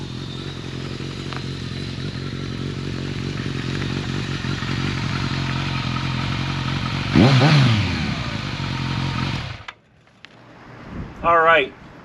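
A Kawasaki ZRX1200R retro motorcycle is ridden with a steady, loud engine drone and wind rush. A brief rising rev comes partway through, then the engine cuts out abruptly, followed by a short scrape and clatter.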